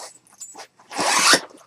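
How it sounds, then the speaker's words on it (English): A double-pull zipper on a padded rifle case, a Maritac Extreme about four feet wide, is drawn open in one loud, rasping pull lasting about half a second, preceded by a few soft handling rustles. "it's got a nice little double pull zipper"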